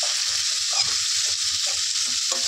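Spices being stirred into amla (Indian gooseberry) in a hot pan, a steady hiss of frying under repeated soft scraping strokes of a spoon, close and continuous.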